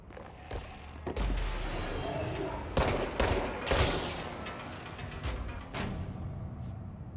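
Gunfire in the video game Control, a sustained rattle of rapid shots with several sharper, louder bursts standing out, steady and dense throughout at moderate level.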